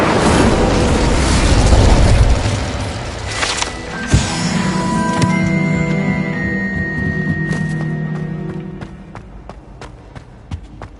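Hogwarts Legacy's Incendio fire spell erupts in a loud burst of roaring flame and booms, then fades into lingering tonal magical hum with scattered sharp pops and taps.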